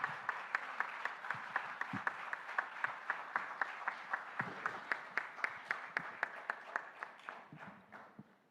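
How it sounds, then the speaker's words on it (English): Leadership summit audience in Maharashtra clapping for Chief Minister Devendra Fadnavis: about twenty-five sharp, evenly spaced claps in a steady rhythm over eight seconds, fairly soft and tapering toward the end. "Can we have a huge round of applause for sir, everybody?"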